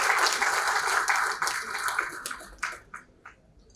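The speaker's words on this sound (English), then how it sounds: "A huge round of applause for all of them and a round of applause for each one of you for making this event possible." An audience at an architecture and interior design event in Patna gives a dense round of applause that holds steady and then thins to scattered claps as it fades out.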